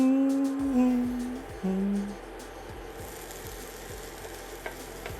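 Beyond Burger patties laid into a hot pan: a tonal whine fades at the start, then a close, crackling fry settles into a steady sizzle with faint repeated ticks.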